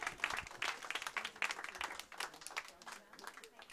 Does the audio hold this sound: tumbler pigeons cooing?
no